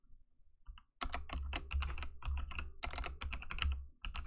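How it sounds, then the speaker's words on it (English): Someone types on a new computer keyboard in a steady burst of close, crisp key clicks after a brief quiet start, with no talking. "I'm using a new keyboard, so it's kind of hard for me to hit the keys that I'm normally used to"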